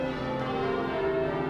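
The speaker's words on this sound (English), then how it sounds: "this is officially the Great Bell of Bow" The Great Bell of Bow, a deep church bell in London, hums and rings on, its sustained tones steady and fairly loud, with no voices.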